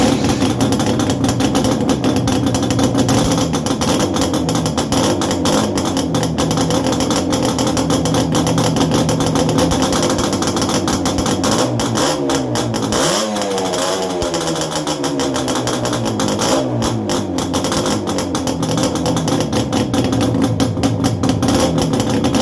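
A Suzuki SB200 two-stroke motorcycle engine fitted with silencers runs continuously at close range, a loud buzzing idle with a brief rev in the middle and no talk.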